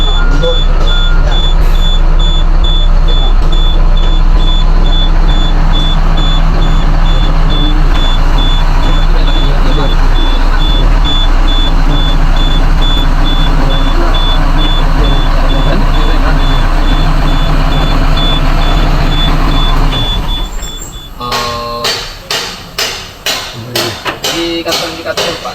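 A heavy equipment machine idles with a deep diesel rumble while its reverse alarm beeps steadily for about twenty seconds, then the engine drops away into sharp clanks and knocks, with people talking throughout.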